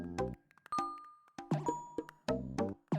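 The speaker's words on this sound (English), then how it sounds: "Nice little chimes when you touch the lamps." Bright, melodic chimes from touching lamps in the video game Pikuniku, ringing in a few distinct bursts with pauses between them, clear and close with no talking.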